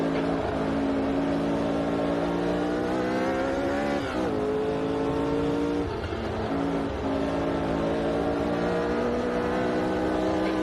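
Late-1960s Formula 1 race cars lapping Kyalami, South Africa, in the racing sim Automobilista 2, 1967 season. A loud, sustained high-revving engine drone runs throughout, with brief dips in pitch around gear changes.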